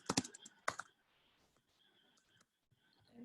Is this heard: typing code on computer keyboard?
yes